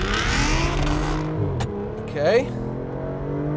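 Aston Martin DB9 or Mercedes-Benz CL65 AMG accelerating hard with paddle-shift gear changes, engine note climbing then dropping at a shift around the middle, close and loud, with someone speaking over it.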